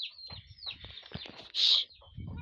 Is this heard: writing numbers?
no